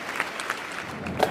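An audience claps in steady, dense applause at a school event, a brief burst of many hands sounding moderately close and even throughout.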